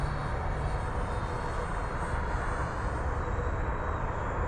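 Xfly SU-57 twin 40mm electric ducted fan RC jet flying slowly, a steady, even whooshing fan whine, constant and fairly distant, with no talking.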